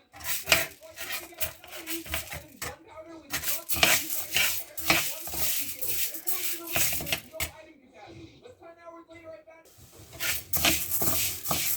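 Lentils being dry-roasted in a pan for a carrot dish, with busy scraping and stirring clatter of a utensil against the pan that rises and falls, and a short quieter stretch near the end.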